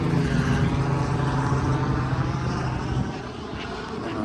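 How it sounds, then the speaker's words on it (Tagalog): Several helicopters circle overhead, a loud, dense rotor and engine drone that fills the scene, then eases off slightly and stays as a softer steady rumble toward the end, with no voices. "Kanina pa yung mga helicopter na yan."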